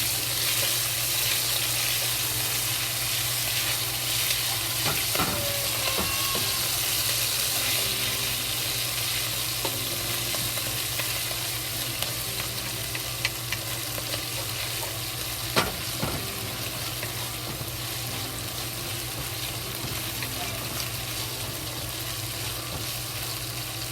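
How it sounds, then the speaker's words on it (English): Sichuan chili sauce frying in oil, a steady close hiss and crackle of sizzling, with a couple of sharp knocks from a utensil against the pan and no speech. "1 teaspoon of chili sauce to it. This kind of 1 spoon Sichuan chili sauce. We fry it."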